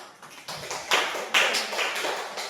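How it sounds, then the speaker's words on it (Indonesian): A classroom of students gives a short round of applause, a few bursts of close clapping that swell and fade over a couple of seconds. "Tepuk tangannya dong."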